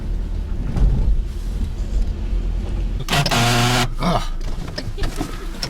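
A car arriving gives an odd noise: a brief, loud, groaning, tonal whine lasting about a second, set against a steady engine and road rumble with no talk.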